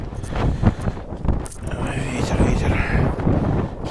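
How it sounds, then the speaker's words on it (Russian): Gusty wind buffeting the microphone outdoors at a damaged solar power installation, a rough, uneven low roar rising and falling in bursts throughout, loud and close. "Ветер."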